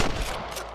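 Rapid gunfire crackles from the video game Red Dead Redemption, dense bursts of shots filling the moment, loud and close with no pause.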